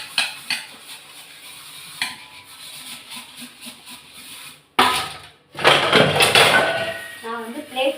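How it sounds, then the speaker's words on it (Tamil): Plates and pots being washed by hand in a home kitchen: scattered clinks and scrapes of dishware, then a loud burst of running water with clattering. Speech may be present as well. "நான் வந்து பிளேட் ஐட்டம்ஸ்லாம் ஃபஸ்ட்டு கழுவிடுவேன்"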